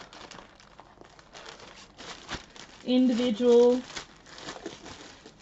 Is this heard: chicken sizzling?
no